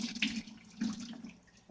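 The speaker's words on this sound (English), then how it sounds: "I'm gonna add water and I'm gonna keep doing this until all the shaft comes out." Water poured and swished over beans being washed in a bowl to remove the skins while making akara, a short close splashing and trickling sound.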